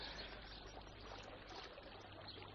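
A romantic waterfall on a summer morning, heard as a steady, dense rush of falling water that fills the whole clip at low, even volume with no voices.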